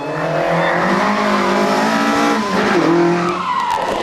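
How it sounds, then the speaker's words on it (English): Mark II rally car sliding sideways through corners at a historic rally in Barbados: loud engine drone with shifting pitch and tire squeal as the car drifts, continuous and close, ending with the engine note changing as it pulls away. "While Andrew Jones likes to set up his Mark II sideways for the corners"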